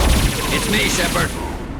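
Rapid gunfire bursts from a high-impact shot in the video game Mass Effect 2, dense and loud throughout with sharp metallic crackles layered over the firing.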